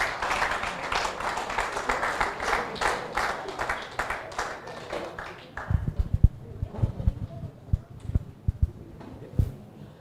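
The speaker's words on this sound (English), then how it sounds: "let's give them a very, very huge round of applause again" Audience at a forensic summer school closing ceremony gives a loud round of applause that fades after about five seconds into scattered, closer individual claps and room noise.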